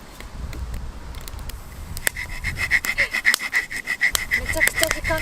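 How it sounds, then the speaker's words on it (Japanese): A small Leatherman saw rasps through wood while a cup is being carved at a bushcraft wild camp, with quick rhythmic strokes starting partway through after a quieter opening. "レザーマンのノコギリでコップ作り。"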